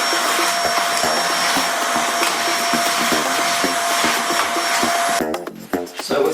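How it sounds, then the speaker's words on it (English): A vacuum cleaner roars steadily at close range while cleaning dust, its motor whine constant, then cuts off near the end leaving brief clattering noises. "We go through it with a vacuum cleaner."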